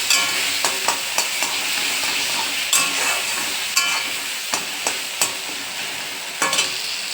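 Panch phoron spices sizzle and fry in hot oil, a steady bright crackle with sharp pops and spatters at irregular moments, close and fairly loud, with no talk.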